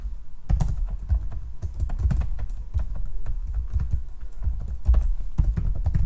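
Code is typed on a computer keyboard in rapid, uneven bursts of close, crisp key clicks that continue for several seconds without speech.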